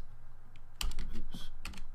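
Fingers type a spreadsheet formula on a computer keyboard, giving a quick burst of close, clattering keystrokes in an uneven rhythm.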